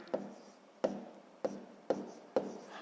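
Pen or pencil strokes on paper as a fraction is written by hand for a sixth-grade maths exercise: five short, distinct scratching taps at roughly even intervals, close and quiet with no talking.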